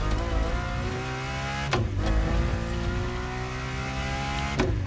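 Ferrari engine revving and droning loudly in The Crew Motorfest, heard from the interior camera, pitch rising through gears with two quick shift breaks, continuous and close.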